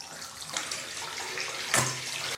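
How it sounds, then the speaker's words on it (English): Running tap filling a bathtub at home, a close, steady rushing splash of water into the tub with a brief louder gush near the end. "Whilst my bath is filling up"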